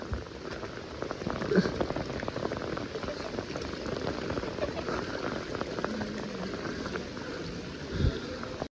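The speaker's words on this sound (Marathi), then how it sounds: "एकदम अतिशय जोरदार पाऊस सुरू आहे." Heavy monsoon rain pours down steadily near Lohagad fort outside Pune, a dense, continuous patter on surfaces close by throughout.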